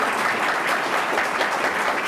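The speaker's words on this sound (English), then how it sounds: "Now you can applaud." An audience at an all-party forum on public education claps for the panelists in a short, steady, dense burst of applause with no speech over it.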